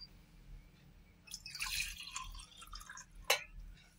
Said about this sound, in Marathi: आता आपण ह्याच्यामध्ये इथे घेतले मी प्लास्टिकचं हे भांड आईस्क्रीमचं, याच्यात टाकूया आता